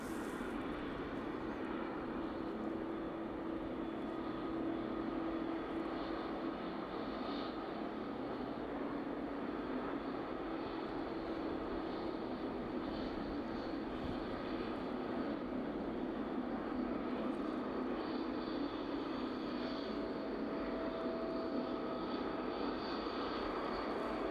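An aircraft taxis back along the taxiway toward the DHL ramp at East Midlands Airport, a steady, distant jet engine drone with a faint whine, constant in level and without talk.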